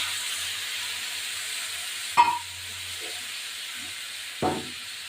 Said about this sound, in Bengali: মশলাটা একটু ভাজা হোক, ফিরে আসছি